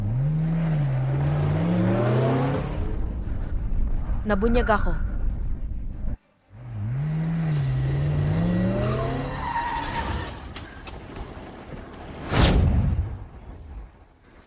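Car tires skid and squeal with engine revving as a car speeds away during a drama chase scene, with voices talking over the loud, repeated screeches and a final whooshing pass.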